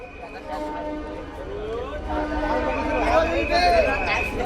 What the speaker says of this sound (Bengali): ট্রেন সামনের দিকে এগিয়ে যাচ্ছে দেখতে পাচ্ছেন